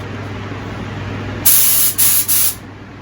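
An aerosol spray paint can hisses in a few short bursts onto a curio cabinet, the last two separated by a brief pause, over a low background hum.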